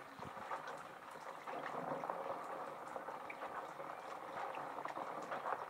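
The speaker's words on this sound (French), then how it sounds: "Vous voyez comment l'eau tourne." Faint bathwater swirls and churns, a soft continuous bubbling, trickling wash with small splashy ticks, heard quietly and alone.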